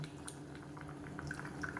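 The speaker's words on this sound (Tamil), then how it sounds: "இப்போ நல்லா கொதிக்க ஆரம்பிக்குது" Tamarind-water curry for a Madurai-style black chana dish bubbles faintly in a pot, with soft scattered pops and drips over a quiet steady background hiss.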